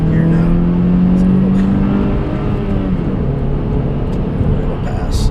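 A 2015 Scion tC fitted with a TRD exhaust, springs, brakes and air filter pulls hard in second gear, its engine drone rising steadily and loud from inside the cabin, with talk over it.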